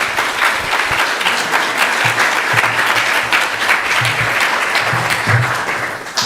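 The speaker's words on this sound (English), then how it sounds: "A big round of applause for Kanhapriya Prabhu." Sustained applause from an audience after a Bhagavad Gita talk, steady clapping throughout with no talking, fairly loud and continuous for several seconds.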